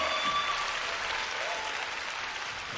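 Audience at a Deyunshe crosstalk show applauds, a dense, steady burst of clapping from a crowd that fills the whole moment.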